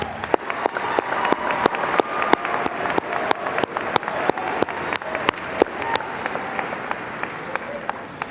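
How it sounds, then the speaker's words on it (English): A crowd at a high school graduation ceremony claps, a broad wash of applause with sharp individual claps standing out near the microphone, steady throughout. "Let's applaud that."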